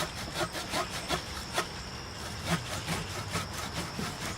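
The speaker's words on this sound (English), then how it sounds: "Let's start sawing." A hand saw cuts through wood in steady, rhythmic back-and-forth strokes during bonsai work, a rasping sound repeated at an even pace.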